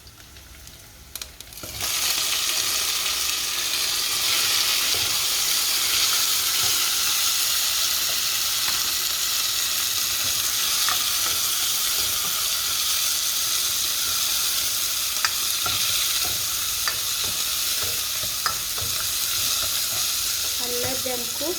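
Onions and tomatoes with dania cooking in a pot for a kidney and mushroom stew, a loud continuous sizzle and hiss that starts abruptly and holds steady, with faint stirring clicks.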